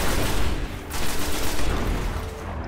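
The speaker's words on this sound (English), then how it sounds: "This auto rifle is pretty good. It needs reloading lots of times though." Sustained automatic fire from an auto rifle in the sci-fi shooter Destiny, a dense, loud, continuous rattle of rapid shots with booming low end and no pauses.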